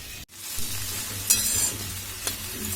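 Okra (bhindi) is stir-fried in a pan with a loud, steady, close sizzle that drops out for a split second early on, then continues with a couple of sharper scrapes of a spatula.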